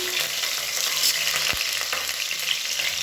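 Mint and curry leaves frying in hot oil, a dense continuous crackling sizzle that stays loud and close for the whole stretch, with a brief stirring knock midway.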